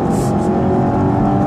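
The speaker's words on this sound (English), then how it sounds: "So you put your foot down and you have, not instantaneous, but very, very quick power" A 2015 Volvo V60 T6 accelerating hard, its engine a loud, steady roar that holds strong and close throughout the short stretch with no break.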